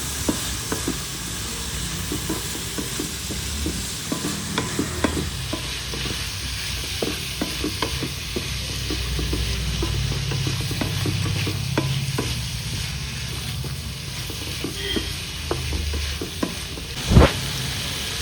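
Masala sautéing in oil with turmeric powder for spicy chicken liver, a continuous close sizzle under repeated scraping stirs of a spoon in the pan, ending in one sharp clank.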